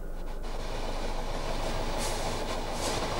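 Inside a new passenger train running near Dhaka: a continuous loud rumble of the carriage with a rushing, steady roar and faint rhythmic wheel clatter, no talk.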